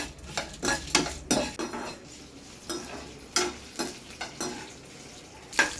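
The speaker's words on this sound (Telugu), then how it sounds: "కొంచెం మినపప్పు నాలుగు మెంతి గింజలు వేయించుకొని" Urad dal and fenugreek seeds dry roasting in a pan, a spoon scraping and stirring in irregular knocks and rattles over a faint background hiss, close and quiet.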